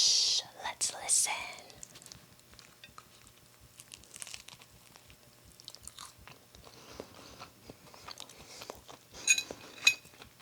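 Crisp crunching bites into a hard cheese taco shell, several sharp crackly bursts with quiet chewing between them, close up, with faint whispery breaths and no talking.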